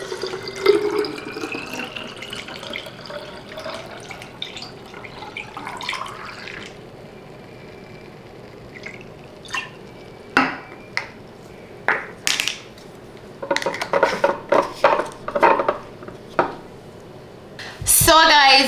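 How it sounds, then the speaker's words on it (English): Tap water runs into a kitchen sink, followed by a string of sharp clinks and knocks from a blender and dishes being rinsed and handled, loud and close. "I just finished cleaning up the kitchen, cleaning out the blender, wiping out the counters"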